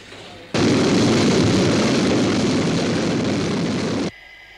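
A jet interceptor aircraft from the TV series UFO roars past, a loud, dense, continuous jet blast that starts abruptly and cuts off sharply after about three and a half seconds.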